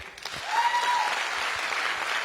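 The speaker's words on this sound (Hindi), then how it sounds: "मैं चाहूंगा एक बार जोरदार तालियां आप सभी के लिए।" An audience claps steadily and loudly for a couple of seconds, a dense wash of applause without voices.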